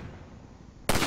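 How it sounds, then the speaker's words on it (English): Rifle fire at a ladder latch in the video game Half-Life 2 Episode One: after a near-silent stretch, one sudden loud shot bursts in at the very end. "Let me shoot out the latch."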